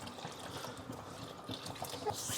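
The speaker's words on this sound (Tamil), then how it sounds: "2 டம்ளர் தண்ணி ஊற்றிக்கோங்க." Two tumblers of water are poured into a cooking pot for shrimp biryani, a soft, steady trickle and splash running continuously at moderate loudness without talk.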